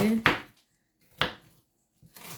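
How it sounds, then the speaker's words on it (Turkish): A knife cuts onions thinly on a cutting board in a home kitchen, giving three sharp separate chops with quiet gaps between them. "Hemen soğanlarımı doğramaya başladım."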